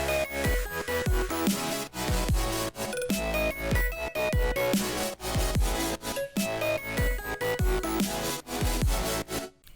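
A full electronic music track plays with punchy kick drums, bass and layered synths, loud and continuous throughout.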